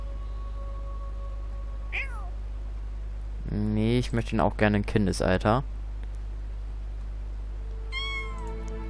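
A cartoonish cat meows in The Sims 4, short rising mews heard faintly near the start and end, while a person talks loudly in between.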